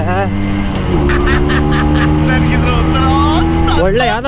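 A 1999 Bajaj Chetak scooter engine revs up after a gear shift, a steady loud drone that rises in pitch throughout, with a voice talking over it.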